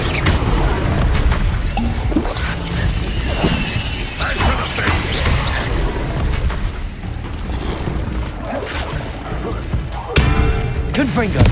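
Confringo blasting spells in Hogwarts Legacy crack and boom over a loud, continuous clash of spell combat, with impacts and crashes layered throughout and a voice calling out spells.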